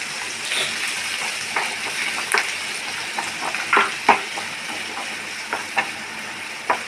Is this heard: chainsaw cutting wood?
no